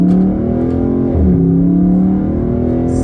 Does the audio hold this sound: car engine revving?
yes